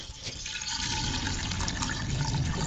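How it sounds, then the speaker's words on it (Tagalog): Water is poured into a pressure cooker holding fish, a loud continuous splashing fill that deepens slightly as the pot fills. "So, lalagyan muna natin siya ng tubig, no? Tubig."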